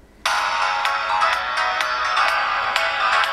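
An iPhone plays a radio remix of a song, with thin, tinny, bright music that starts suddenly and stays steady with rhythmic beats, no talking.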